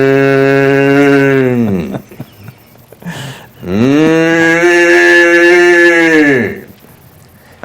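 A person lying in a field mimics a cow with two long, loud, drawn-out moos separated by a short breathy pause, the voice imitating cattle convincingly at close range.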